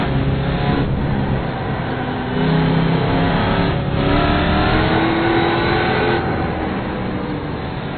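Mazda MX-5 race cars lapping Mid-Ohio, engines droning and revving continuously at mid distance as several cars pass, pitch rising and falling through gear changes.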